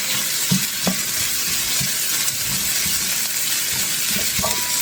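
Chicken and aromatics sautéing for a stir-fry with broccoli, a steady close sizzle with scattered clinks and scrapes of a utensil stirring the pan.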